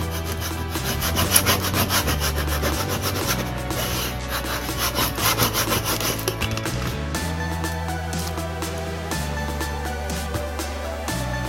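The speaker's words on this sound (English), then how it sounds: "make sure you squeegee everything in." A squeegee rubs firmly across a vinyl decal sticker in steady, scraping strokes, close and continuous, with music playing underneath.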